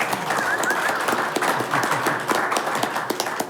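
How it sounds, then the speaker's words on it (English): Enthusiastic applause at a city council study session greets birthday wishes for the mayor: a dense, steady round of clapping from the room, with a few whistles and whoops scattered through it. "that was an enthusiastic round of applause"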